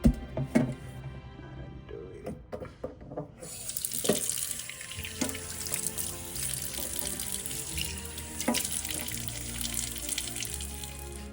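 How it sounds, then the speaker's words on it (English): Limes are washed under a running kitchen tap, with a steady close rush of water punctuated early by clattering and handling knocks, and no talk. "So I finished washing them"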